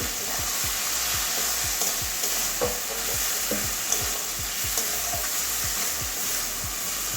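Prawn and bottle gourd khichuri being sautéed in a pan with a touch of jaggery, a steady close sizzle under a regular rhythm of spatula scrapes, roughly two strokes per second, with no talk.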